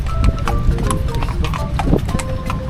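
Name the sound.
horses walking, hooves clip-clopping in Marrakech street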